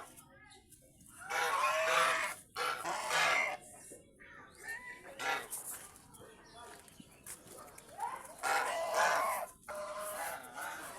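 Pet chickens call loudly in bursts of squawking and clucking, close by, with quieter gaps between the outbursts.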